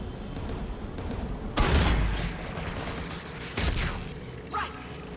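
Anti-aircraft guns fire in the Mass Effect 3 video game, heavy booming blasts over a dense rumbling battle din, with a distant whistling streak near the end.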